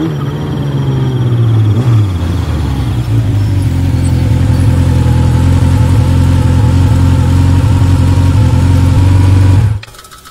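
A vehicle engine runs loud and close, its idle rising into a steady revving drone as the exhaust pipe works loose, then it cuts off abruptly near the end.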